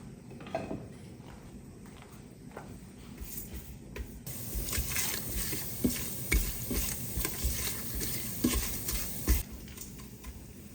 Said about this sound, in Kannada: ಸೊ ಎಲ್ಲ ಹಾಕೊಂಡ್ಬಿಟ್ಟು ಜಸ್ಟ್ ಒಂದು ಮೂವತ್ತು ಸೆಕೆಂಡ್ ಅದರದ್ದು ಘಮ ಬಿಡೋ ತನಕ ಚೆನ್ನಾಗಿ ಹುರ್ಕೊಬೇಕು